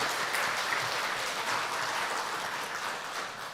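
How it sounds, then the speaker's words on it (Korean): A church congregation at a Sunday worship service applauds the choir, a steady, moderately loud wash of many hands clapping that tapers slightly at the end. "우리 박수 한번 하겠습니다."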